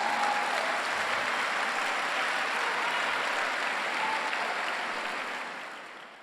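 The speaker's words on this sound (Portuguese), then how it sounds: "Dá um aplauso aí para Jesus" Steady applause from a church congregation at a Sunday service fills the room evenly, a dense wash of many hands clapping that fades out near the end.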